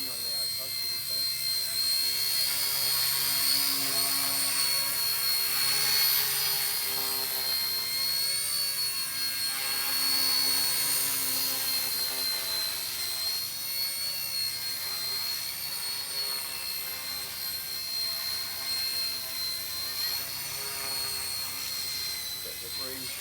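An RC-ERA C138 Pro radio-controlled helicopter flies indoors with a steady, high whining buzz from its motor and rotor that holds level throughout, close by and continuous, with faint background sounds beneath.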